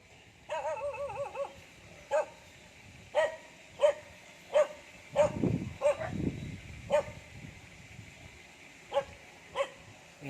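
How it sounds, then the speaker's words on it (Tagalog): A dog lets out a whiny, wavering whimper, then barks repeatedly at a steady rhythm, sharp yaps spaced about a second apart, moderately distant. "Ayan, may aso."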